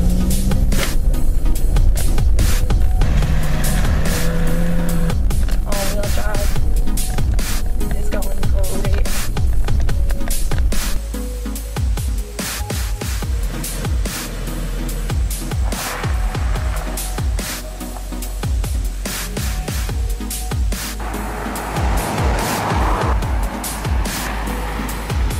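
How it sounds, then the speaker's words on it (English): A 2014 Honda CR-V with all-wheel drive driving off-road: a steady, loud vehicle roar with dense bumps, rattles and rough-ground knocks throughout, easing slightly in level partway through. "We're gonna take this thing off-roading."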